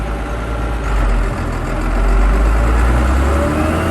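A tractor engine runs with a deep, steady low rumble that swells slightly as it begins driving off, close and continuous with no talking.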